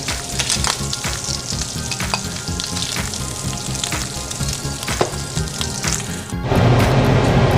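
Vegetables sauté in a hot pan for stir-fried noodles, giving a loud, continuous sizzle broken by repeated scraping stirs. Near the end the frying suddenly swells into a stronger, denser hiss.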